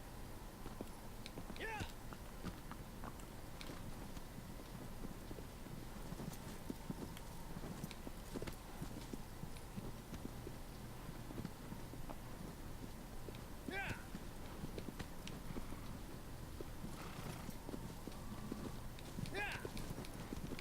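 Horse hooves clip-clop steadily through the Shadow of the Colossus game audio, a continuous mid-level trotting rhythm under wind and ambient game sound, with a voice talking over it.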